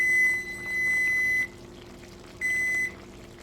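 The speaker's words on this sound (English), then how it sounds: "Timer off." Electronic kitchen timer beeping in steady high tones, one long beep then a shorter one after a pause, close and clear over a faint simmering background hum.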